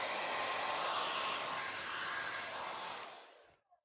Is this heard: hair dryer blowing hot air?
yes